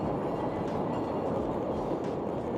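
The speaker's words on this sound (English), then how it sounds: "Oh, the train's there now." A train rolls past at a moderate distance, a steady broadband rumble with faint wheel clatter and no voices.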